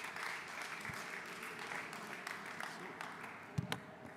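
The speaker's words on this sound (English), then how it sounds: "A big round of applause for Twarit." Audience applause at a festival innovation pitch stage, a steady moderate patter of clapping under a faint hum throughout, with a couple of sharper knocks near the end.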